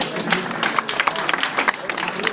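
Audience applauding a rugby player at a club interview session: a short burst of scattered clapping from a modest crowd, with some talk mixed in.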